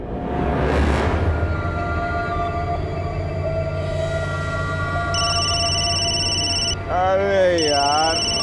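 A telephone rings with repeated bursts of bright electronic trills over a busy room with background music and voices, while someone speaks over the ringing near the end.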